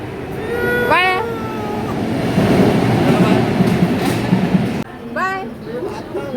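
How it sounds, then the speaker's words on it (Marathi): A train at an Indian railway station on a trip from Maharashtra toward Uttar Pradesh, with a loud rolling rumble, two bursts of high rising squeals or whistles and background voices. "चला आता ट्रेनमध्ये बसूया."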